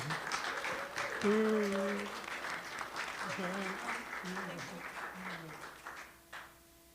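An audience at an evening poetry reading applauds steadily to welcome poet Dale Champlin. The clapping fills the room and fades toward the end, while voices talk over it.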